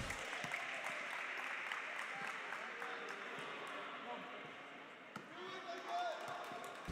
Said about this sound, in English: The crowd getting involved.